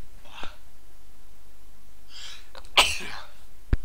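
A hay fever allergy sneeze: a faint breathy intake, then a sharp, loud burst of sneeze followed by a brief sniff, close to the microphone with no talking.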